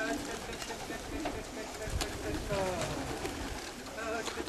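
Racing pigeons coo and flutter as they land at a loft during an August club session, soft bird calls and wingbeats mixed under steady outdoor background noise and nearby talk.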